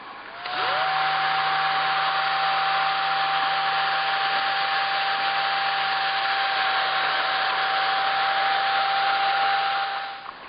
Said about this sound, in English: I've been running the dryer on this for about 15 minutes